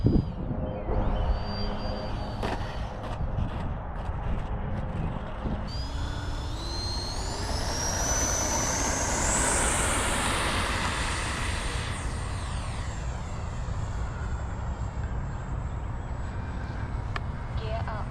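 A Flyfans L-39 64mm electric ducted fan RC model jet on 6S power flies past with a loud, rushing fan roar and a high whine that rises and sweeps in pitch as it passes, then holds steady.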